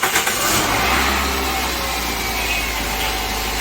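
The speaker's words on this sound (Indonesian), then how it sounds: "Kita hidupkan untuk suara mesinnya, Mas Arif." A used car's 1800 cc engine runs at a steady, close idle just after starting, with an even low hum and mechanical rattle; no talk.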